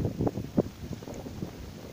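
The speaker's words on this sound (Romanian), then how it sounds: "Tu nu vezi cum mă bate vânt" Wind buffeting someone walking outdoors toward a beach, a steady low rumble with gusty swells, loud and close against the microphone, with no speech.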